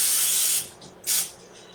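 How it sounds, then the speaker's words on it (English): Non-stick cooking spray hisses from a can into a measuring cup in a kitchen: one long burst, a brief faint puff, then a second short spurt, close and crisp. "I'm going to spray my cup with non-stick spray"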